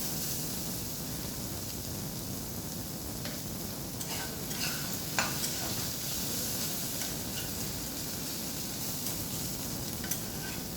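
Food frying in a pan, a continuous quiet sizzle with faint crackles and occasional scraping from stirring, steady throughout and free of talk.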